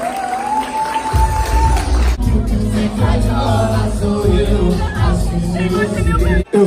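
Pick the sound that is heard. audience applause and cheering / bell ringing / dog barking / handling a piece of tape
audience applause and cheering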